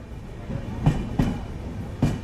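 Train at Vadnagar railway station in India, its wheels giving three sharp clacks over rail joints at an uneven rhythm above a steady low rumble, nearby and moderately loud, with no talking.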